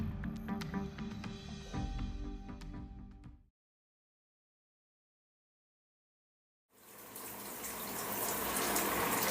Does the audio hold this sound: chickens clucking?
no